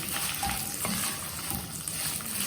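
Spices for Maharashtrian goda masala, turmeric among them, sauté in a pan with a steady close sizzle and occasional stirring scrapes, no voices.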